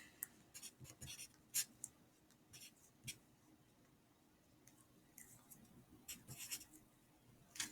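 Working a math problem on paper by hand: faint, intermittent scratches of a pen or pencil come in short bursts with quiet gaps between strokes.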